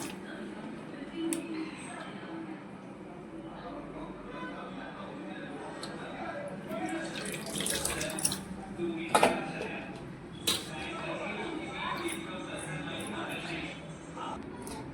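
Sour chuka leaves are washed in water in a metal pot at home, with faint sloshing, clinks of pots and utensils and occasional louder clatters, while someone talks over the sound.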